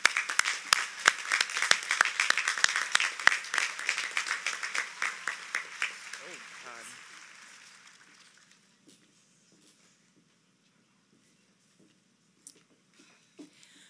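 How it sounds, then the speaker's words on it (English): High school graduation audience giving a round of applause for the class of 2021, a dense burst of clapping that fades out over about eight seconds into near silence with faint scattered sounds. "we deserve another round of applause"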